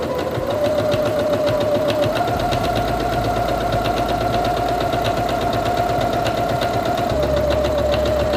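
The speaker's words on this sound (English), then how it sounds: "And release the button and continue sewing." A Singer Quantum Stylist 9960 sewing machine stitching steadily, a loud continuous motorized whir with a fast needle rhythm and a slight pitch shift partway through, close up with no voices.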